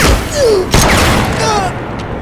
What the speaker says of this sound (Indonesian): Bill lalu menembak Crater, membuatnya spontan melepaskan peluru yang mengakhiri nyawa Bill.